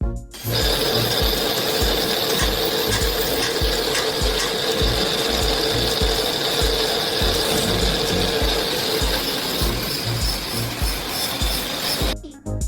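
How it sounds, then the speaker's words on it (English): Rope-making machine rapidly twisting and braiding threads, a dense continuous mechanical clatter of fast ratcheting, whirring gears with a steady high whine, loud and close throughout, starting and stopping abruptly. "This machine twists and braids the threads rapidly."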